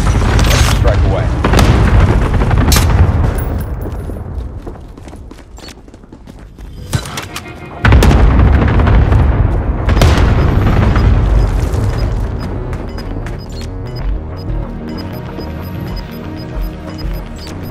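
A Call of Duty: Modern Warfare airstrike lands as a string of heavy, booming explosions with deep rumbling tails, one hard blast hitting midway, followed by scattered crashes and debris, with game radio voices talking in places.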